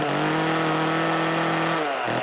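An old chainsaw engine catches and runs, a steady loud buzzing drone that holds for about two seconds and then drops as it sputters at the end.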